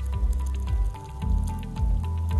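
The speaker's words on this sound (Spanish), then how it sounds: "a tomar el agua caliente y le echamos en el envase" Hot water is poured into a container during a science class demonstration, giving a steady close-up gurgling, sloshing stream that continues without a break.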